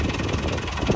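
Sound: New Holland tractor engine idling

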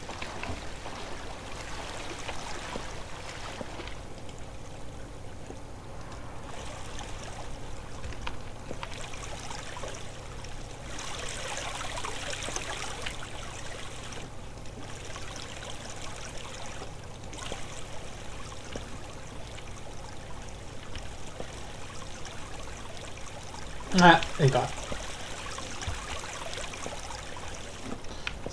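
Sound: flowing water in the video game Minetest

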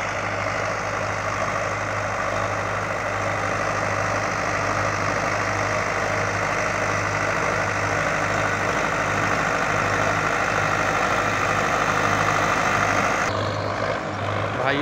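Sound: tractor engine running

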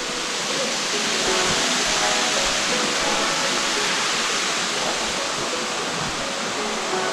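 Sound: water flowing into a river in Kurşunlu park, Turkey

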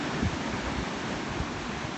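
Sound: ocean waves at Laguna Beach

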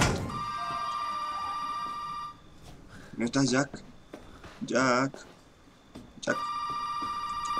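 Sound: telephone ringing in Resident Evil 7, a video game

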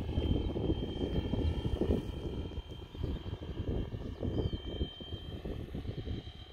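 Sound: RC helicopter Flywing UH1 flying

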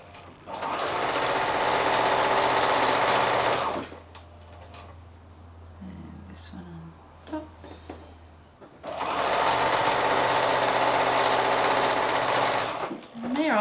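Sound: sewing machine stitching quilt pieces with quarter-inch seam

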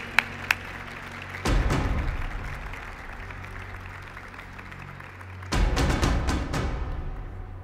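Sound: applause at an awards gala

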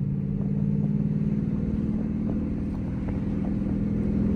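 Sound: Dodge Charger RT drifting

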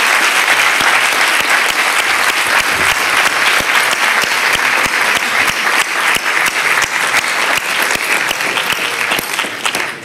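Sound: audience applauding round-table speakers

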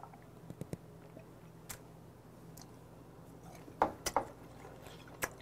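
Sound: chewing raw tuna sashimi

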